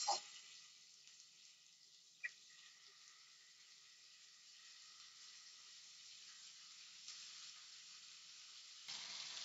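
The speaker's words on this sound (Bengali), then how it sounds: "এবার আমরা এই ম্যারিনেট করা চিকেনের পিসগুলো এই তেলের মধ্যে দিয়ে এপিট ওপিট করে ভেজে নেব।" Marinated chicken pieces frying in white oil for butter chicken give a steady, soft sizzle throughout, with a brief sharp clink near the start and another a couple of seconds in.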